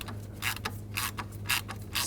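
A hand ratchet with a T30 socket is turned to back out a screw during radiator removal on a 2011–2018 Volkswagen Jetta 2.0L, giving bursts of quick clicking pawl sounds separated by short pauses.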